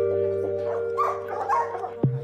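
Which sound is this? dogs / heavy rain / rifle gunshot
dogs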